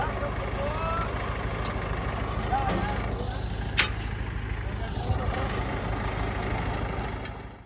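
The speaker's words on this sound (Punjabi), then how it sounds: "ਲੋ ਗਾਇਸ ਟਰੈਕਟਰ ਆ ਚੁੱਕਿਆ ਹੈ" A tractor engine idles with a steady low rumble through a farm-side scene, continuous and moderately close under someone talking, with a brief knock midway.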